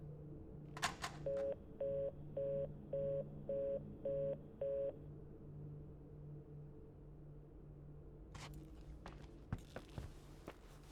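Cell phone keypad dialing tones in the video game The Suicide of Rachel Foster: a quick, evenly spaced run of about seven beeps over a quiet hum, followed by faint footsteps and knocks.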